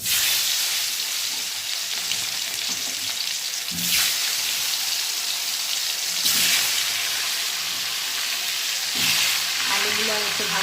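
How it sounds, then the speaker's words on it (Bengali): Potatoes fry in hot oil in a wok, a steady close sizzle with brief louder surges as they are stirred, no talking. "এবার আলুটাকে ভেজে নিই, কেমন?"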